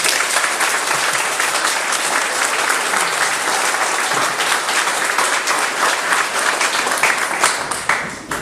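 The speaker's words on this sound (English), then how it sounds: "So let's give them a round of applause." Sustained, loud audience applause at a historical symposium in Inverness, honoring community volunteers; a dense, continuous clapping crowd fills the room evenly for over eight seconds.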